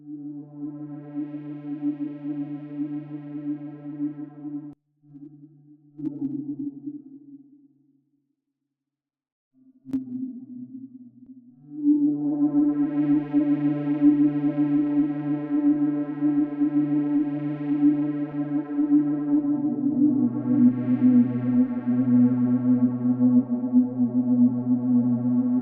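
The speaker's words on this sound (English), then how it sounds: "This sounds like a bass, but if we play this up an octave, we get this kind of atmospheric tone." Sustained synth tone from a Serum bass preset played an octave higher, forming an atmospheric pad in an FL Studio organic techno production; long held notes with a gap and a brief dropout midway, then a fuller, louder passage continuing alone without talk.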